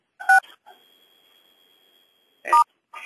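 Telephone keypad tones from conference-call participants pressing star six to mute: two separate short tone bursts about two seconds apart, each with brief clicks, over a faint steady hum on the phone line.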